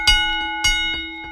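Ring bell at a professional wrestling show, struck twice in quick succession, each clang bright and metallic with a sustained ringing tone that hangs between and after the hits, with no talk over it.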